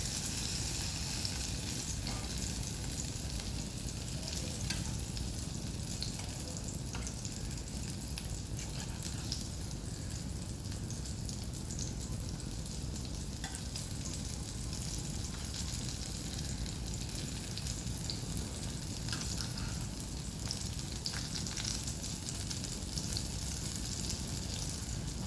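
Sliced pointed gourd (potol) frying in oil in a small pan, a dense continuous sizzle heard up close and steady throughout, with no talking.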